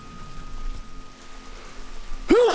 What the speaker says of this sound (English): Raining once more.